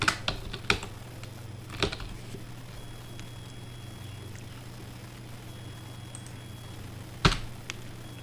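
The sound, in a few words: typing on a computer keyboard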